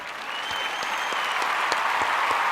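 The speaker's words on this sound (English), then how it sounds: "Let's give you a round of applause" A crowd applauds steadily, a dense wash of clapping hands that holds at an even, fairly loud level throughout.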